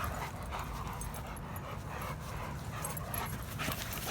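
A young Cane Corso or Presa Canario pup pants and whimpers close by in playful excitement among other large dogs, a steady breathy rustle running throughout with no talk.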